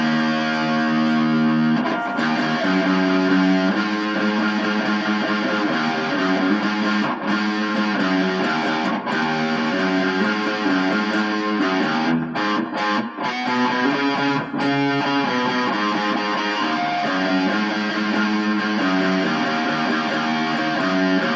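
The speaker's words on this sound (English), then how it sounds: "how it sounds with a nice overdrive, which is like the mellower side of distortion" A Laguna LE50 short-scale electric guitar played through a mellow overdrive that pushes the amp, giving continuous loud, growly chords and low riffs with sustained, saturated tone throughout.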